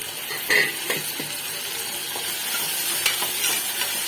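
Steady sizzling of onions and tomatoes sautéing in a pan for goat boti gravy, with occasional scrapes and stirring knocks from a utensil, close and continuous.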